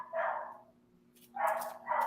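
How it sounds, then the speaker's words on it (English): Excited high-pitched barking from a next-door neighbor's dog, three sharp barks spaced unevenly, moderately close over a low steady hum. "She has that high-pitched bark when there's people around because she wants to go see them"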